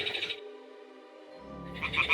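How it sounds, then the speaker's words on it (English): Toads croaking at a nest in the video game Kingdom Come: Deliverance II, one sustained low droning croak between brief bursts of brighter ambient noise. "The toads are croaking here."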